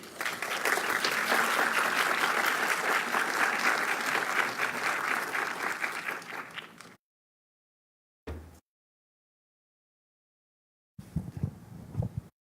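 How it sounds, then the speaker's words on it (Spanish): Audience applause welcoming a female councillor to a keynote lecture marking the anniversary of women's suffrage in Mexico, a loud sustained crowd clapping for about seven seconds that cuts off, followed by brief bursts of room sound. "les pido un aplauso para recibir a la consejera Dania Rabel"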